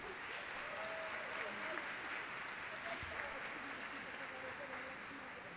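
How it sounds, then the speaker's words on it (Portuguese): A second round of steady, dense applause fills a formal ceremony hall during a solemn session honouring Black Latin American and Caribbean women, even and sustained from start to finish, with a faint murmur of voices underneath. "Uma salva de palmas novamente."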